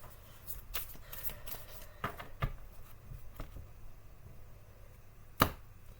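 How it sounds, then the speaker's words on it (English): A deck of cards shuffled by hand at close range, soft riffling bursts and taps scattered across a few seconds with one sharper snap near the end, fairly quiet with no talking. "we'll shuffle, and then we'll break it into 2 piles"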